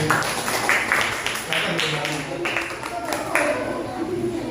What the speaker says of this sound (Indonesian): Sekaligus tepuk tangan untuk kelompok satu.